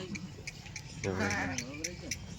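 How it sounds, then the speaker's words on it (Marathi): A Kathiyawadi sheep bleats once, a wavering cry close by, over faint background noise with light ticking sounds. "ह्या मेंढ्या गाडीमध्ये येत आहे"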